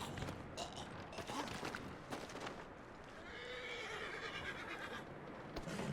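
A horse whinnies amid clip-clopping hooves and creaking ambience in Red Dead Redemption 2, fairly close, with no talking.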